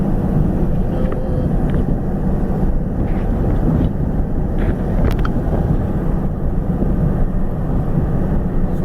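A box truck driving over clean highway north of Pittsburgh, heard from inside the cab as a loud, steady road and engine rumble with wind noise that holds unbroken from start to finish.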